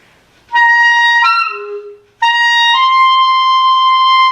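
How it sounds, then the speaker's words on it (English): A clarinet sustains a D near at hand, starting with a brief squeaky, unstable attack and breaking pitch before settling into a steady, bright held tone with no talking. "it will either squeak on you or it'll be really flat."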